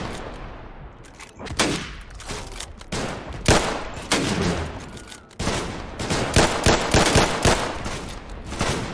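Heavy gunfire in a Roblox World War I trench warfare game: overlapping rifle shots and rapid bursts crackle almost continuously, loud and close, with occasional heavier blasts.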